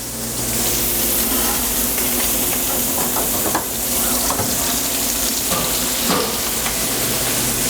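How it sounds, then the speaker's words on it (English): Steady, loud sizzling and crackling of potato frying in oil at about 350 degrees, continuous throughout with no voices. "we're just going to fry it for a few minutes"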